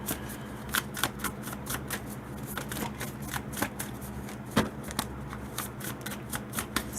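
Tarot cards are shuffled by hand in a quiet room, a close, steady run of crisp riffling flicks and slaps repeating rapidly through the whole stretch with no voices.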